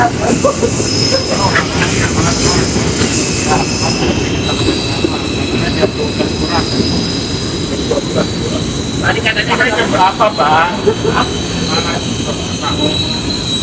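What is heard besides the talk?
trains at Manggarai station, wheels squealing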